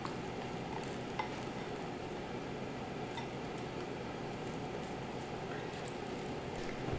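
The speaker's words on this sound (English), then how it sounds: "you're just going to mix it till you get like a dough" Sticky dough of peanut butter, mashed banana and protein powder being stirred and mixed, a steady soft squishing and scraping that runs continuously throughout with a few faint clicks.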